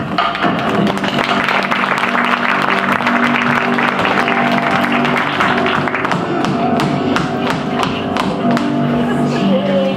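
An audience claps at a 2013 stage show in Auburn, a dense wash of applause that carries on throughout, with sharper individual claps standing out toward the end.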